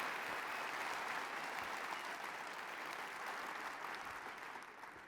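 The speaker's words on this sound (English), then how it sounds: "let's give Colleen Heidegger and her team a round of applause." A large audience at a startup competition finals event gives a sustained round of applause, a dense, even wash of clapping that holds steady and eases slightly near the end.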